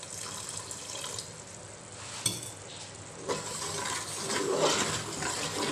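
Water is poured into a pan of fish curry cooking with onion and tomato, giving a soft, continuous splashing and trickling that swells toward the end, with a few light clinks of utensils, fairly close and without talk.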